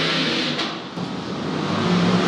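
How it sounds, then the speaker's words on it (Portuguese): A Stock Car Brasil Light race car at the Londrina circuit accelerating hard with push-to-pass engaged, a loud, sustained engine roar that swells slightly as it passes, with no speech. "E olha aí o Pietro Rimbano, também com seu botão de ultrapassagem apertado, acelerado."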